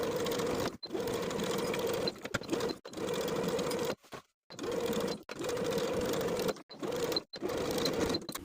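A sewing machine stitches the outer waistband layer onto the top of high-waisted A-line shorts at a 3/8 inch seam allowance, running in several close, steady bursts separated by brief pauses.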